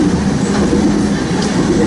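Rapid-discharge hopper cars of a coal train pass in Nebraska, coal pouring down onto the track, giving a continuous heavy rumble and rattling roar close by.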